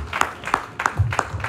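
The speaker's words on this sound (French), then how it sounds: "Acclamons pour Jésus" A church congregation applauds in praise during a worship service, a few loud, evenly spaced claps forming a slow rhythmic beat, close and distinct.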